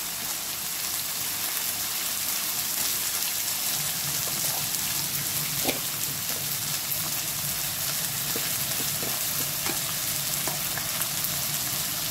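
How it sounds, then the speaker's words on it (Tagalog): Chicken with mushroom is stirred in a hot pan, giving a steady, close sizzle and fry with scattered light taps and scrapes of the utensil. Nobody talks over it. "At ituloy natin ang halo. Haluin natin."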